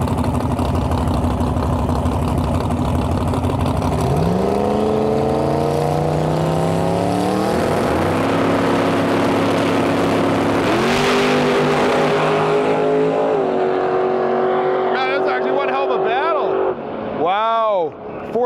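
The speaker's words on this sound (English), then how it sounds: "in the left lane, he's got Russ Flamin with the twin turbo GTO. Let's see if that Nova can get that round win." Twin-turbo GTO and a Nova at a drag strip, engines loud and close from start to finish: steady idling drone, then hard rising revs through several gear shifts as the cars launch and pull away, with a fading high whine at the end.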